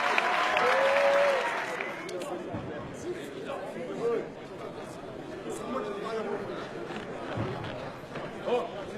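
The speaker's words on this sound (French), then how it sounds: "ils méritent encore une fois, tous les deux, vos applaudissements" Arena crowd applauding two boxers after a world championship fight, with a burst of clapping up front that fades into a murmuring hall, scattered claps and an announcer's voice over the top.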